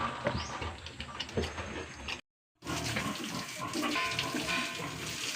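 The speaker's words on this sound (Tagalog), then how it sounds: "Kusog din na baboy mo inom tubig ba." A pig drinking water, giving wet running and lapping sounds close up, with a brief silent gap partway through.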